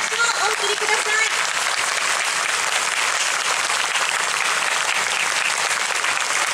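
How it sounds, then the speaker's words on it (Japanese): Dense, sustained audience applause fills an outdoor concert at the Ginza willow festival after a high school brass band's performance, steady and loud throughout, with a voice briefly audible at the start. "今一度盛大な拍手をお送りください"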